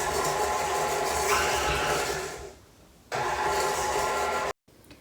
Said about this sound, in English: this beautiful, wonderful KitchenAid standing mixer has beaten the sugars and the softened butter together for a couple of minutes now